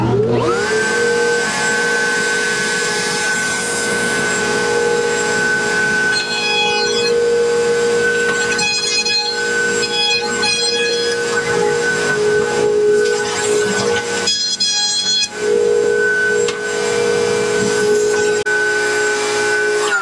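A router cuts wood for interior trim in a 25-year-old motorhome, the stock guided by feather boards. A loud, steady whine holds for about twenty seconds, with a brief dip near the fifteen-second mark.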